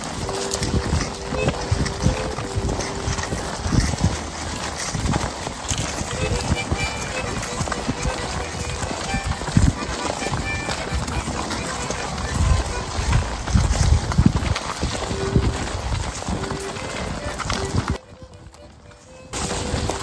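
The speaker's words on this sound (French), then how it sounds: "La jolie petite Maple, d'habitude, est le cheval de bas" Horse hooves clip-clopping during a self-sufficient horseback expedition: a steady walking rhythm of hoofbeats close by, mixed with wind and creaking tack, briefly dropping away near the end.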